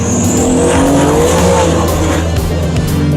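A Porsche race car with 1,200 horsepower and no driver aids, its engine roaring loud and close on the track, with gliding engine pitch and some tire squeal.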